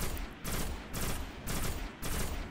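Assault rifle fire in the Destiny shooter game, coming as three sustained bursts of rapid shots, each about half a second long, separated by short gaps; no voices.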